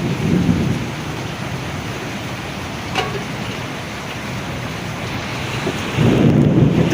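Sudden heavy rain with thunder pours on a house with a leaking roof. Low thunder rumbles open and close the passage over a steady roar of rain, with no voices.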